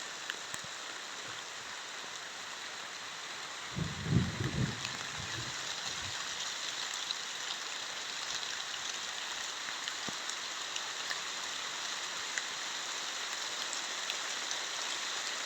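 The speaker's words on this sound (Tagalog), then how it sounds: "sobrang palakas na yung ulan" Heavy rain falls steadily on a rural farm lot with rice paddies and a stream nearby, a dense, even hiss of drops close all around, with a brief low rumble of handling early on.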